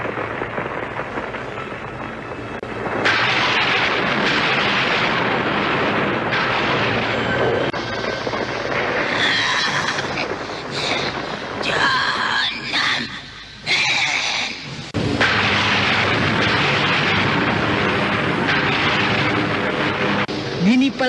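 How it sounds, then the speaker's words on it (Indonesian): A thunder effect from an Indonesian horror audio drama rolls loudly and continuously. Deep booming rumbles and cracking crashes fill the scene, swelling, briefly easing off, then surging again. "Nini Pelet berusaha melawan suara petir itu dengan kekuatannya yang tersisa."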